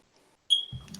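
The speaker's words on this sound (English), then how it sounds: "do you have a smoke detector?" A smoke detector gives one sharp, high electronic beep that sounds out clearly and then fades into a low, rumbling background noise.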